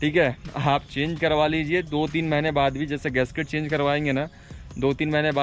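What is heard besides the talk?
No distinct noise like a dog, phone or traffic.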